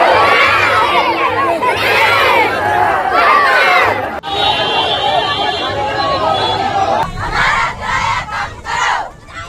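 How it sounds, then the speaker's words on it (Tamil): A crowd of students shouting slogans together at a street protest, loud rhythmic chanting bursts with overlapping voices, a brief dip midway, then choppier shouted calls toward the end. "அவர்களுடைய கோஷங்களை பார்க்கிறீர்களா?"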